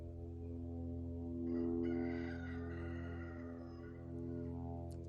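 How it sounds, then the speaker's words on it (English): Roosters crow repeatedly in the unusual darkness of a solar eclipse at a campsite, long drawn-out calls overlapping each other, fairly close and steady against a constant low hum in the background. "Just crowing. That's all they've been doing all day."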